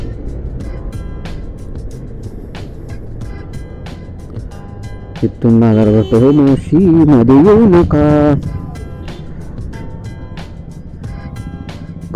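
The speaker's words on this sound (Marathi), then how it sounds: "काय गाड्यांची गर्दी जबरदस्त" Dense road traffic of many vehicles makes a constant low engine rumble throughout, with a person talking loudly over it partway through.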